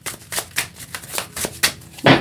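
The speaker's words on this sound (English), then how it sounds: "Let's give this a bit of shuffle." A deck of tarot cards being shuffled by hand, with a series of quick riffling bursts at an uneven rhythm, close up and ending in a louder final flurry, with no talking.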